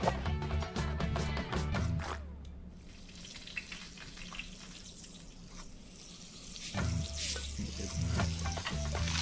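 Ghee sizzles while frying in the Venba cooking game, a steady crackling hiss under light game sounds, louder at the start and end and easing in the middle.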